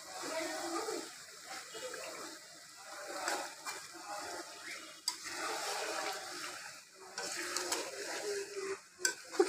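Hilsa fish pieces being gently stirred into mustard spice paste in a pan, producing soft scraping and low sizzling with light splashy clatters, faint and close, continuous across the whole stretch.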